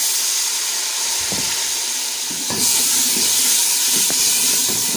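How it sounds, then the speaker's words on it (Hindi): Spice masala of red chilli and turmeric powder frying in a pan for a pea dal recipe, a steady broad sizzling hiss that swells louder midway as a splash of water is added, with faint stirring clinks. "अब मैं इसमें थोड़ा सा पानी मिलाऊंगी।"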